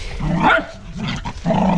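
Several dogs bark and yip excitedly in quick bursts nearby, with a touch of growling between the barks.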